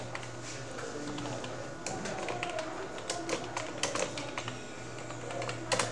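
Rapid, close tapping of a computer keyboard as a date of birth is entered into a form in Microsoft Word, with uneven bursts of keystrokes over a steady low hum and no speech.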